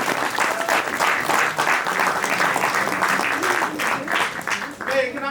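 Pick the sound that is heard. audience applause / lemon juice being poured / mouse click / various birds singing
audience applause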